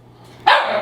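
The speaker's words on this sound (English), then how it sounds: "That was Indy, one of my dogs." A dog gives a single sharp, loud bark close by after a moment of near quiet, its tail fading quickly.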